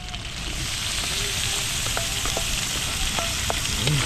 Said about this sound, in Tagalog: So, gigisahin na natin yung ating gulay hanggang sa maluto.